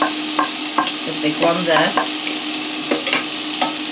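Onions frying in a pan while being stirred, a bright steady sizzle with repeated spoon scrapes and clinks, a few brief spoken words passing over the cooking noise.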